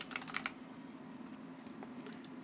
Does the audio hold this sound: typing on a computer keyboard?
yes